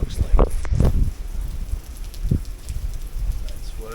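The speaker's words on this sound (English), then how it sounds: "You can hear the rain, I'm sure." Rain falling outdoors on Kauai near the ocean and some restrooms, a soft continuous hiss and patter with occasional louder thumps and rustles, fairly faint under a person talking.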